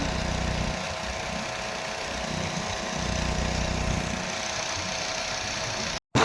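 A tractor engine used for ploughing drones steadily at a moderate distance, a low knocking idle that holds constant before cutting off abruptly near the end.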